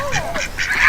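Several ducks call in a brief, overlapping burst of honking quacks, close and clear, among many birds in a Hawaiian garden.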